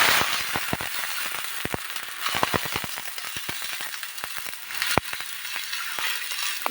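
Steady, crackling sizzle as water hits a hot pan of fried moong dal, with scattered sharp pops over a constant hiss, moderately loud and close.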